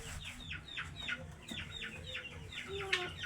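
Chickens cluck in quick, repeated chirpy calls, several birds together at a moderate distance in a bird park, over a low steady background hum.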